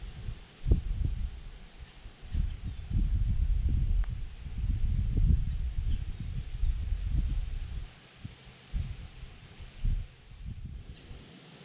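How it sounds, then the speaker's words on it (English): Strong gusty wind, with gusts around 30 to 35 miles an hour in cold weather, buffets and rustles leaves outdoors in repeated low surges that ease and return, close and fairly loud. "The wind is picking up really bad the last half hour."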